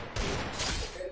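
A brief burst of video game gunfire rings out as a dense, loud crackle that fills the short moment, with no talking over it.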